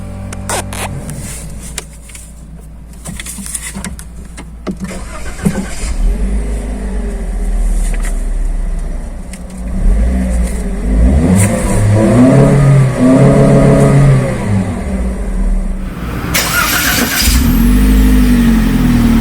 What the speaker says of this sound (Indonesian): kita akan dengerin dulu suara startup dari Toyota Agya GR Sport ini